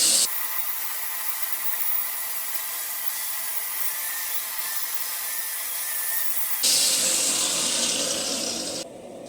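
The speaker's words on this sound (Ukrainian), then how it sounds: "Отак нагрів, болгарку взяв." A loud, continuous high-pitched grinding whine of an angle grinder on heated forged metal, cleaning off forging marks, steady throughout, shifting in tone near the end.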